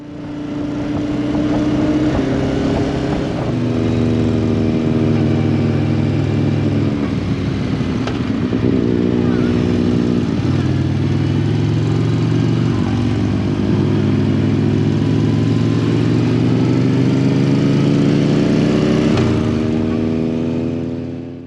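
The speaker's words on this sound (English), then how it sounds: "I've never actually felt safer on a motorcycle" A motorcycle engine drones steadily while riding through the Colorado Rockies, the pitch rising and dropping as it shifts through gears, loud and close with rushing wind.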